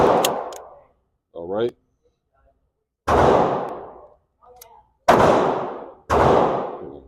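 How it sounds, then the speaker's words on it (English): Glock pistol fired at a shooting range, several sharp, loud single shots spaced about a second apart, with brief metallic handling clicks and a short spoken remark between them. "Let me run one of these Glock mags through here"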